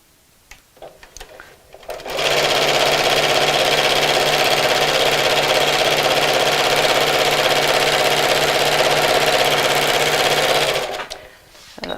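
A sewing machine runs a quarter-inch seam on fabric for a Christmas bag, starting with a few handling clicks, then a loud, even motor whir for about nine seconds before stopping abruptly.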